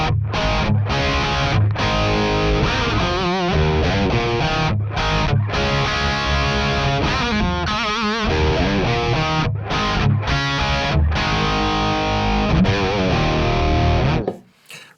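Crunchy, distorted electric guitar played through a Lichtlaerm Audio Ragnarök preamp pedal on its green channel with lots of gain, loud chords and riffs with short pauses, ringing out and fading at the end.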